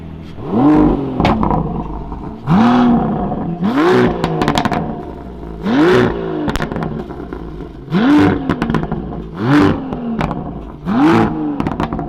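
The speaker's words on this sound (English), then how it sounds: "Let's rev it a few times and see what it sounds like." Aston Martin V12 Speedster's twin-turbo V12 engine revving hard about six times in a steady rhythm, each rise snarling up and dropping back to idle, loud and close, with no talking over it.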